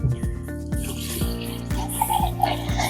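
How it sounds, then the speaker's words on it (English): Water pours steadily into a pot while making chicken stock for Hainanese chicken rice, a close, continuous splashing that lasts the whole moment with no talk over it. "And we add some water."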